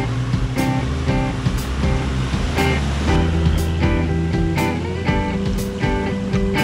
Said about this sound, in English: After slowly negotiating our way through our second creek crossing